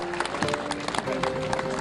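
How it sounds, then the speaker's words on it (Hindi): Audience clapping at a singing competition finale honouring the top ten finalists, a brief steady patter of hands with crowd noise and voices mixed in. "तालियां"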